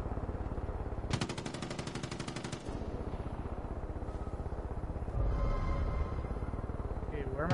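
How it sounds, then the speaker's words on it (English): Burst of rapid automatic gunfire in Far Cry 5 as a sniper shoots, a dense rattling volley lasting over a second amid steady game ambience and some speech-like background sound. "Okay, where am I getting shot? I see a sniper."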